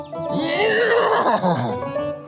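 A horse lets out a long, loud whinny that rises and wavers for about two seconds, close and clear, with no talking over it.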